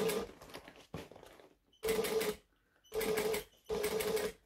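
A sewing machine stitches down quilt binding about an eighth of an inch from the edge, whirring in four separate close bursts broken by short silent pauses.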